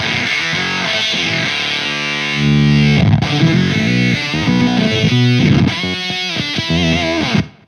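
Heavily distorted electric guitar through a Way Huge Atreides synth pedal, with a buzzy, synth-like processed tone, plays chords and notes loudly for several seconds before cutting off.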